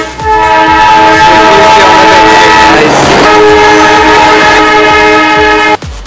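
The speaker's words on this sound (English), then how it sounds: "So it was really the train was coming" A train passes close by on a road crossing, its horn blaring loudly in a long sustained blast over the heavy rumble of the cars, then cutting off abruptly near the end.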